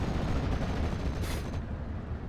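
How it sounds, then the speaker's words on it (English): Rifle fire from infantry squads in the real-time strategy game Company of Heroes, a dense, continuous rumble of scattered shots and battle noise, moderately loud and steady throughout. "Looks like our first bullets are starting to be fired now."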